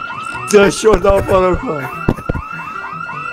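A car alarm wails with a repeating rising tone in the Project Zomboid video game, loud and close, as a person talks over it.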